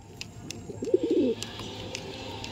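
Madrasi pigeons of the Andhra Lambari and Rekdar type give a short, soft, throaty coo, heard once close by over faint background noise.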